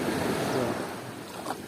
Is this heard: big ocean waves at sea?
yes